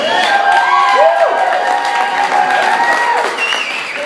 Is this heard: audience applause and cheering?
yes